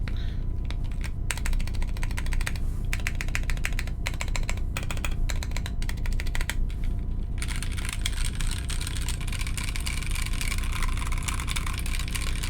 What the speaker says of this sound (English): Okay, so they sound like POM keycaps.